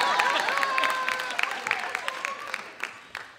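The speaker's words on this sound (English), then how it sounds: "You can applaud." A small audience at a Q&A applauds after a request to clap, scattered hand claps rising and thinning out over a few seconds, moderately quiet with faint chatter underneath.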